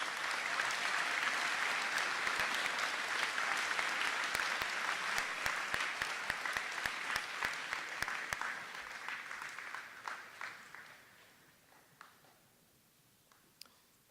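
An audience at a senior awards ceremony gives award recipients a round of applause, dense and loud at first, then thinning out and fading to a few scattered claps.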